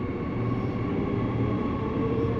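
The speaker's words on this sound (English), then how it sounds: "most people that were on the train got off the train here at Bayswater" Ellenbrook line electric train running through Bayswater station in Perth, a steady continuous rumble and hum with a faint tonal whine, close and unbroken throughout with no voices.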